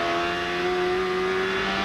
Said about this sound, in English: Tag runs out of road in that Walmart Tide car, gets back on the throttle.